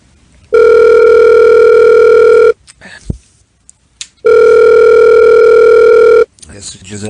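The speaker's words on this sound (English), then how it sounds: "I guess Giselle doesn't want to answer" A telephone rings unanswered during a radio show: two long, loud electronic ring tones, each lasting about two seconds, separated by a quiet gap with small clicks, followed by brief noise at the end.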